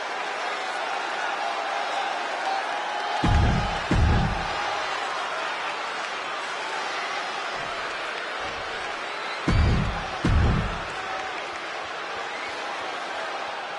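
Wrestling arena crowd giving a sustained roar of cheering and applause at an NXT event, with a few louder bursts of clapping and cheers rising above the steady din.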